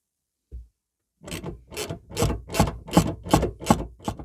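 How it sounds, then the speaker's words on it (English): Bolts on a Vauxhall Corsa D rear panel being undone with a T25 Torx bit: one short tap, then a run of about eight rhythmic ratcheting rasps, close and clear, with no talking. "To remove those bolts, we need a T25 Torx bit like this."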